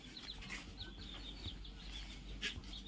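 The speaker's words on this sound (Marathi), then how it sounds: "हे बघा अंदर आहे अंदर आहे कोंबड्या" Chickens cluck softly and intermittently over a steady low background rumble, with a brief brighter squawk near the end.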